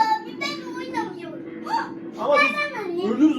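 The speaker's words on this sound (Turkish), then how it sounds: "Eyvah ağlayan kız sesi duydum." A crying girl zombie in the video game Left 4 Dead sobs and whimpers in wavering, high-pitched bursts, loud and close throughout, with game noise underneath.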